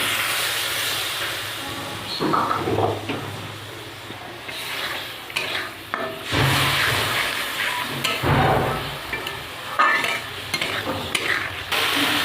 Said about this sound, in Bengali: এবার আমি ভালো করে মশলাটা কষিয়ে নেব